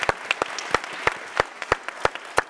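Small audience applause at a Silicon Valley Reads kickoff event, close and fairly loud, with distinct individual claps standing out in an irregular patter over a softer bed of clapping.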